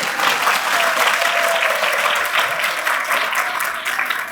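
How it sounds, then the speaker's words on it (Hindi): Audience applause welcoming a guest at an anniversary gathering of a foster-family organisation in Meerut, India: sustained, dense clapping from a large crowd, loud and steady for several seconds with no talk over it. "स्वागत ताली बजाकर, पीछे वाले बजाइएगा जोर से"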